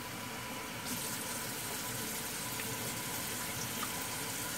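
Around two cups of tap water run into a simple old ice tray in a home kitchen. A soft hum gives way to a steady, close gushing flow that fills the tray for several seconds, with no speech.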